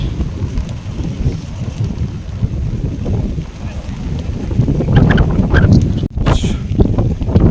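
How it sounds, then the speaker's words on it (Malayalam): Strong wind at Chele La Pass in the Himalayas roars and buffets the microphone continuously, with loud low rumbling gusts that build toward the end. "നല്ല വിൻഡാണ് കേട്ടോ നല്ല കാറ്റ്"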